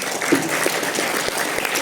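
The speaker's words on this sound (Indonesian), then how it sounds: "Kalau setuju tepuk tangan dong." Workshop attendees clap in agreement during a leadership seminar. The clapping is brief and fairly loud, with some scattered voices mixed in.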